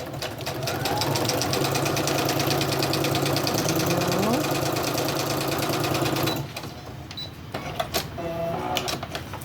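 Sewing machine stitching through junk journal paper folios in a loud, rapid, steady mechanical chatter for about six seconds, then stopping, followed by a few softer handling clicks and rustles.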